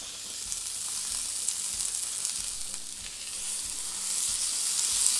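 Sliced zucchini sizzles and fries steadily in a hot pan with turmeric for a vegan vegetable curry, a continuous crackling hiss at close range with occasional soft spatula scrapes, no talking.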